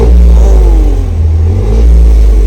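A car engine revs hard near the microphone, its deep exhaust silencer note booming loudly in rising and falling sweeps, with no talk.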